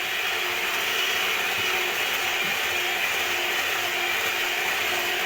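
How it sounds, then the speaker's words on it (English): Red velvet sponge cake batter being whisked with a machine, a steady, even whirring drone that holds at one level throughout with no pauses. "Keep whisking for just about 5 minutes or thereabouts."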